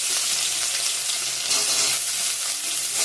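Chicken giblets and chopped onion fry in hot oil in a kadai, producing a loud, dense, continuous sizzle with no pauses and no voices.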